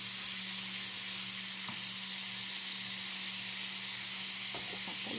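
Bean sprouts stir-fry in a pan for a dish of camel liver with green beans, giving off a steady, close hiss of sizzling with a few faint utensil clicks and no talking.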